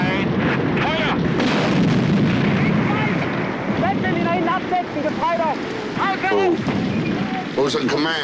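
Artillery fire in the 1975 war film The Noah: heavy, booming blasts and rumbling bursts, loud and repeated, mixed with shouted voices and wind-like noise.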